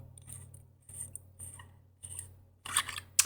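The back portion of a Luke Skywalker ROTJ neopixel lightsaber hilt is unscrewed, giving several short, close metallic scraping and grinding twists in bursts with brief pauses, ending with a couple of sharper clicks.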